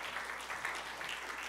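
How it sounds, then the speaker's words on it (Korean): Applause from a church congregation after a youth group's special song, a soft, steady wash of clapping at a distance, fairly faint and without talk. "박수 한번 하겠습니다"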